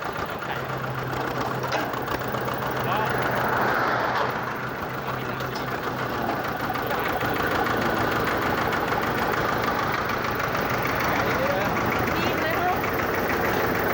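A two-cylinder, 24-horsepower Kubota L240 tractor diesel engine idles steadily throughout, a low rough chugging with a constant drone and some background noise.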